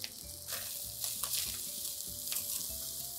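Carrots go into a pan where meat and onions are already frying, giving a steady close sizzle with scraping stir strokes and brief rattling bursts, and no voices.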